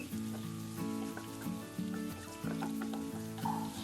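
Ginger with curry leaves and salt sautéing in a pan gives a soft crackle, while a strong tonal hum with shifting pitches runs over the top, likely background music.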